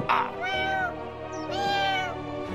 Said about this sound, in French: le pauvre chaton a tellement peur qu'il peut pas s'empêcher de pleurer